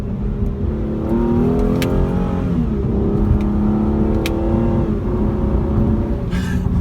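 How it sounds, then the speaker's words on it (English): A 2015 Hyundai Genesis Coupe 3.8 engine drones loud and close, its pitch dipping through a downshift partway through and then climbing again as the car accelerates, with a few faint clicks over the top. "we're gonna downshift here in a second"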